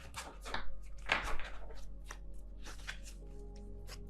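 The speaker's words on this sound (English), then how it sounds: "Let me see if I can actually shuffle this way." Soft riffling and slapping of cards being shuffled by hand, a few quick bursts followed by lighter shuffling, close and fairly quiet over a low hum.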